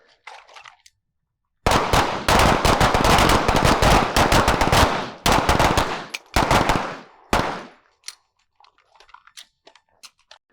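A handgun fires in a one-handed shooting drill, several rapid close sharp shots in quick bursts with short pauses between, loud and crisp, then quieter clicks afterward.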